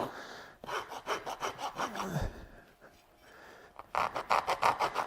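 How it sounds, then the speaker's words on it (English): A rasp files a horse's hoof in close, rhythmic back-and-forth strokes, with a brief pause midway before a fresh, louder burst of rasping. "I like to take and soften all this with a rasp"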